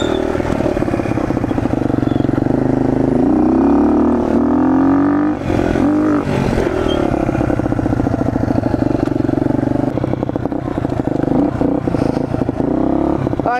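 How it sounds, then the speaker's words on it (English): Dirt bike engine runs loud and close throughout, a steady buzzing drone with rising and falling revs as the bike is ridden around to warm up. "get your bike started and then ride around and warm it up"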